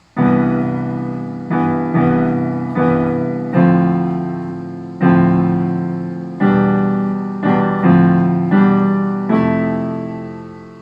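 Piano chords struck in a rhythmic pattern, each ringing out and decaying before the next, with uneven spacing and no voices.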